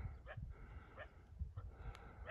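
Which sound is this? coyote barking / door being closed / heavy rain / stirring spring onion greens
coyote barking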